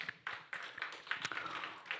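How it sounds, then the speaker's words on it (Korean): A church congregation claps for fathers on Father's Day, a faint, scattered patter of hands with uneven taps, fairly distant, without voices. "다시 한번 박수 한번 했으면 좋겠습니다"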